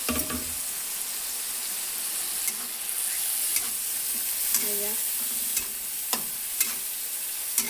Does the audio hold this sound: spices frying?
yes